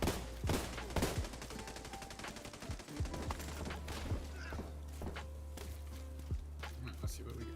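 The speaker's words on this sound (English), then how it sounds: "Stop shooting me" Gunfire in The Division 2 during the Iron Horse raid: repeated sharp shots and bursts crackle over a steady low rumble, with talk running alongside.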